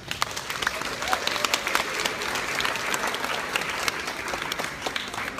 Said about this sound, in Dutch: geef hem een warm applaus, dames en heren, Jos Kattenbeek.